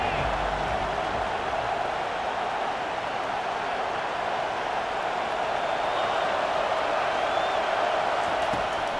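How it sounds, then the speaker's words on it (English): A home football crowd roars on a third-down play, a sustained, even wall of stadium noise that stays loud and unbroken for the whole stretch. "how nice is it to have the home crowd going absolutely bananas?"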